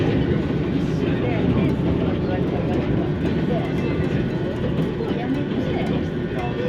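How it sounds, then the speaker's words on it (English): Train rolling along the ocean front toward Enoshima on the line from Kamakura, a steady broad rumble of wheels and running noise throughout, with a person talking over it. "our train is passing through the ocean front"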